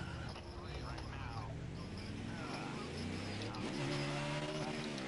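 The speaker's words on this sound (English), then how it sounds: "I spun out again." A car spins out in a racing video game, with steady engine drone and drawn-out tire squeals running throughout, mixed under people talking.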